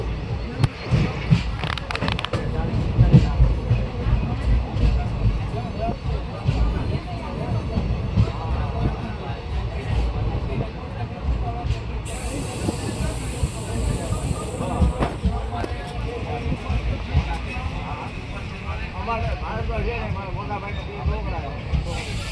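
A passenger train on the Junagadh to Lathi line pulls into Vadiya Devli railway station in India, with steady rumbling, clanking and hissing throughout and people talking nearby.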